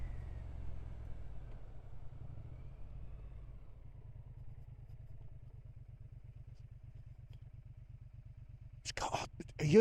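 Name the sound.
Triumph Speed Twin 1200 motorcycle engine while riding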